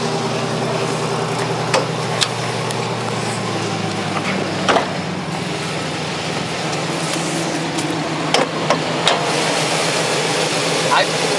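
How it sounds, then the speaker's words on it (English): A 2000 Chevy Silverado with its original high-mileage engine idles steadily, a constant low mechanical hum with a few faint clicks. "I'm going to start it up and show you the motor."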